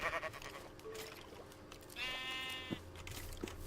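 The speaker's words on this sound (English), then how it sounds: "Get out of my way, sheep." Sheep bleat in Minecraft, one wavering bleat in the middle of faint game ambience, footsteps and soft clicks, with no talk over it.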